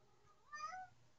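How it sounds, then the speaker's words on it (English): A domestic cat gives a single short, faint meow indoors, rising and falling in pitch, with quiet room tone around it. "I don't know what this cat is doing."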